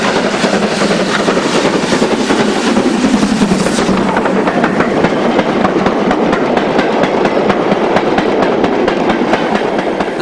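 Steam locomotive Earlstone Manor, in black livery, hauls a train of wagons with a loud, continuous rumble and rhythmic rail clatter, close and unbroken throughout.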